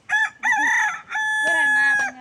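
A rooster crowing close by, a few loud drawn-out calls in quick succession, the last one long and sustained.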